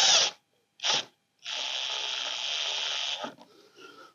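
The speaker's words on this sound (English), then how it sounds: "I will tighten up this clamp a little bit." A Harbor Freight spark plug cleaner running in short bursts close by, two quick hisses followed by a longer steady blast that cuts off, with a faint rattle afterward.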